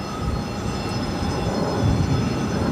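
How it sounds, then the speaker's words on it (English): A US Airways retro-livery Airbus A321 jet rolling for takeoff at Phoenix airport, a broad steady roar that swells slightly, heard from a distance and without talk. "we got that US Airways Retro A321 up next for takeoff"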